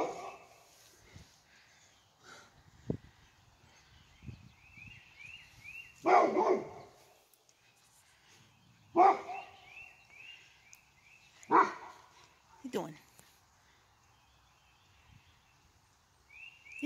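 A dog barks in several sharp, separate bursts spaced a few seconds apart, close and loud on a quiet rainy morning outdoors, with faint bird chirps between the barks.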